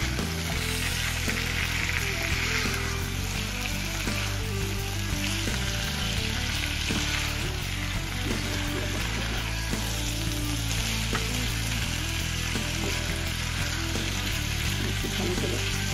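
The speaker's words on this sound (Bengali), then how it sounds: "মুরগি তেলের মধ্যে পেঁয়াজের সাথে অলমোস্ট ভাজা হয়ে গেছে" Chicken frying with onions in hot oil in a home kitchen, a continuous close sizzle with occasional stirring scrapes, steady and fairly loud with no talk over it.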